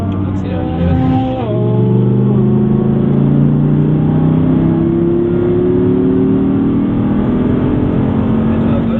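Audi R8 V10 accelerating hard on a track at Issoire, its engine note climbing steadily and loud and close throughout, with a voice briefly speaking over it.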